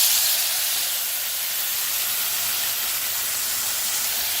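Tomatoes frying in a teaspoon of hot oil with cumin in a home kitchen pan give a steady, loud hiss and sizzle that runs unbroken for several seconds with no talking.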